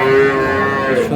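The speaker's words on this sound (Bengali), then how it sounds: "দেখছিলাম এখানে গাভী বাছুর" A cow or calf at a cattle market gives one loud, close, sustained moo lasting about a second.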